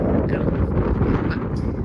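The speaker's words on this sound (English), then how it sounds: "So the wind is blowing at me right here." Strong desert wind buffets the microphone with a steady, loud, low roar that rumbles and gusts without a break for the whole stretch.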